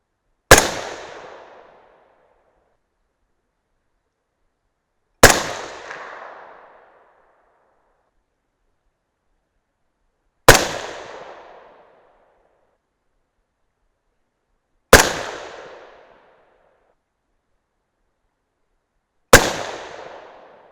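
Five 6.5 Grendel rifle shots with 120gr Speer Gold Dot loads, each a sharp loud crack with a short decaying echo, spaced evenly about five seconds apart with silence between.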